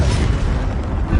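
Expelliarmus spell cast in Hogwarts Legacy, a loud, booming burst with a dense low rumble that holds steady for about a second, with no talk.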